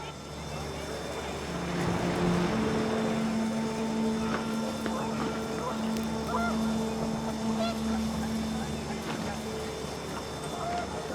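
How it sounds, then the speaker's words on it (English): Panicked geese honk in the video game What Remains of Edith Finch, calls rising over wind and water ambience with sustained tonal drones, steady throughout and mid-distance. "The wind picked up, and panicked geese appeared and quickly went."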